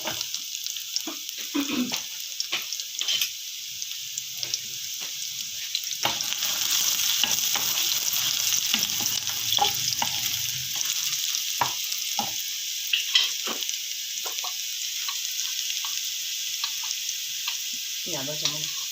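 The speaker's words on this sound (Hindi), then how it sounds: "ये देखिए लहसुन फ्राई होने लग गया।" Garlic and green chillies fry in hot oil for daal, giving a continuous bright sizzle close to the microphone, with occasional stirring clatter and brief utensil clinks, while a person talks intermittently over it.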